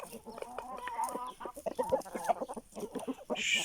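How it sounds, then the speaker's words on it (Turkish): An Aseel rooster crows and clucks nearby in a series of raspy, broken calls, with soft farmyard background noise. "Sürümüzde 3 tane horoz var."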